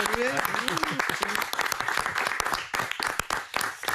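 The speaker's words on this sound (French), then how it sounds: "il y a quelques camarades de Céline Kallmann qui arrivent et qui vont l'applaudir" Colleagues of Céline Kalman clap for her in the RMC radio studio on her departure from the morning show, a close, uneven burst of hand claps with voices speaking over it.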